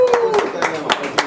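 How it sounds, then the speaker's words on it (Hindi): A few claps from an audience at a fashion and media awards ceremony, sparse irregular hand strikes under a voice that keeps speaking across the short burst. "तालियां।"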